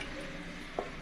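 Wooden paddle stirring flour batter for coconut burelu, a soft muffled scraping in a quiet kitchen with one brief knock near the end.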